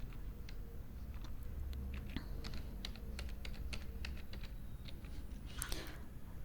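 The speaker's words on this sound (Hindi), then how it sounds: "और यहाँ पे आपने कोई स्ट्रॉन्ग सा पासवर्ड टाइप कर देना है अपने अकॉर्डिंगली" A password being typed on a computer keyboard: a quick, irregular run of soft key clicks lasting several seconds, fairly close but quiet, with no talking.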